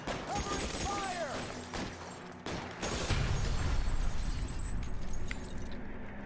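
Gunfire in the LA Noire video game, rapid bursts of shots and clattering impacts during a shootout, with louder explosive crackle later, mixed under shouted dialogue.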